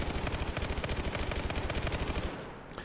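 Rapid automatic fire from an A-91 rifle with a Cobra sight and compensator in Battlefield 4, a fast steady burst of sharp cracks at medium range lasting over two seconds before stopping.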